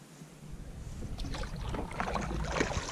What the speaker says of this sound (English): Well, paddling out, just crossed that big old beaver dam behind me.